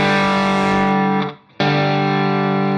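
Line 6 DL4 MKII pedal on its double track tape setting, thickening a sustained, distorted guitar tone that rings loud, briefly cuts out near the middle, then returns at full level with a doubled, shimmering body.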